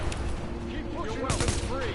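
Gunfire crackles in the video game The Division, a short burst of shots under a speaking voice.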